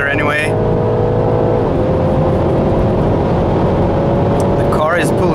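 A BMW G20 330e plug-in hybrid revs hard under acceleration, a steady loud drone with a brief gear-shift dip, wind rushing throughout.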